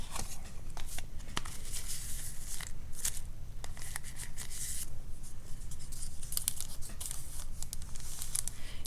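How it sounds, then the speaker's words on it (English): A sticker peeled from a sheet during papercraft embellishment for a file folder journal, heard as light crinkling, tearing and rubbing of paper with scattered small crisp rustles, close and continuous. "and then let's pull a sticker"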